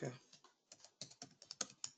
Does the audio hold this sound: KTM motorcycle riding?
no